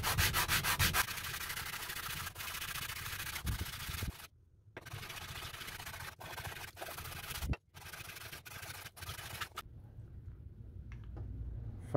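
Continuous rough scratching of sandpaper on wooden parts of a vintage engineer's square, rubbing steadily with a few brief pauses, close and fairly loud.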